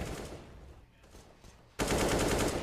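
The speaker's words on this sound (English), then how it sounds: "I like how it's Liege there, just spamming away through the smoke with the AK" An AK rifle spraying through smoke in a Counter-Strike match, rapid automatic gunfire: scattered quieter shots, then a sudden loud sustained burst of fast repeated fire.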